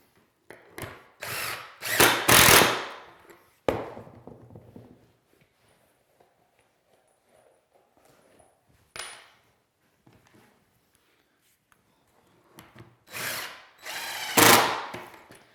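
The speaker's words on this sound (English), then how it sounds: "I'm trying to be really careful not to overdrive these screws." Power drill driving screws into a plywood cubbie cabinet joint, with loud bursts of whirring near the start and again near the end, separated by quieter handling noises and a few sharp knocks.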